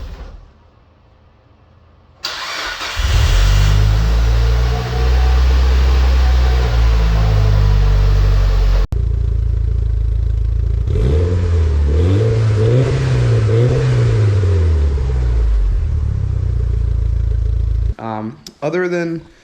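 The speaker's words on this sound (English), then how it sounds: "It's got a nice big fat single exhaust." An AWD turbo four-cylinder car with a loud, fat HKS single exhaust starts up, idles with a deep rumble, then is revved in several rising and falling sweeps, heard close and loud.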